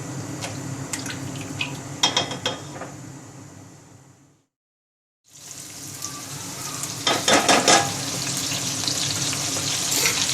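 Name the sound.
onion frying in a pressure cooker for nihari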